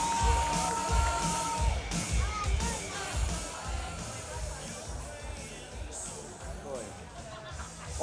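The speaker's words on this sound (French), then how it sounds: "Donnez-lui une bonne main d'applaudissement." A crowd at a professional rodeo at the Guigues Western Festival applauds and cheers a cowboy, a steady roar of clapping and voices with an announcer speaking over it.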